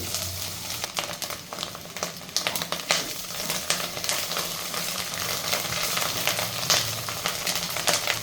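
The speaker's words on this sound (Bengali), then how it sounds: "লাল লাল করে ভেজে দিতে হবে।" Egg fries in hot oil in a pan until browned, giving a steady sizzle with frequent crackling pops and spatters, close and constant, with no talking.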